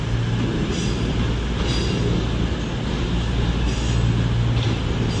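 A Cross Country Voyager diesel unit runs through Birmingham New Street station, a steady, loud rumbling drone heard close by throughout with no clear voices.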